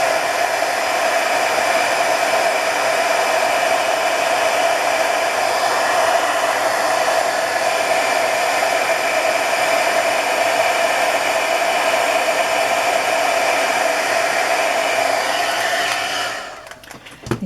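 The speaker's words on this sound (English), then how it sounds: "The heat gun would be your biggest investment if you don't do embossing" A heat gun for embossing blows hot air in a steady, loud, even whoosh close by, holding for about sixteen seconds before abruptly cutting off.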